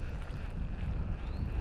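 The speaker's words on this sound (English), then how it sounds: "It's really windy out here. It's hard, blowing hard too." Strong wind buffets the microphone outdoors on a windy fishing day by the water, a steady low rumbling roar with no voices.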